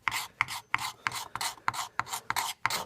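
A scraper rasps varnish off a wooden gun stock in nine even, rhythmic strokes, each a short, close, crisp scrape with a faint click at its start.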